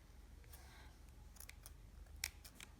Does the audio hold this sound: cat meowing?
no